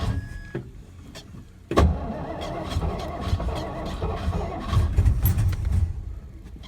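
A 1963 Studebaker Lark two-door engine starting up and running rough with sharp backfire pops, one loud crack near the start of the sputtering, uneven idle.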